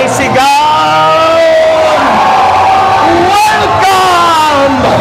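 A church congregation in San Roque, Caloocan City shouts together at a worship gathering, a loud sustained roar of many voices with yells and whoops rising and falling, close and continuous throughout.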